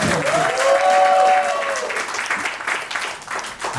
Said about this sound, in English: Just clap for the grandparents.